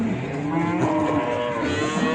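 Cattle at a busy livestock market in Ceyhan mooing loudly and continuously close by, several overlapping low bellows filling the scene with no talk.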